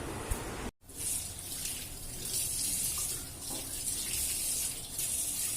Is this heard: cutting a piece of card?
no